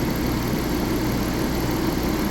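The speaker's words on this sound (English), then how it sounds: "Idling smooth as all get out." A 2005 Audi engine idles steadily and smoothly after a timing belt replacement, a close, even low rumble with no stumbles, heard alone in a shop.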